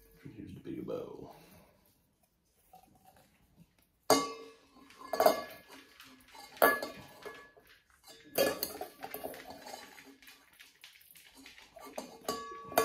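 A bigger bowl clinks and scrapes while cigar tobacco is mixed, with several sharp knocks and rattles of bowl and utensils, near and fairly quiet, after a brief murmur of speech.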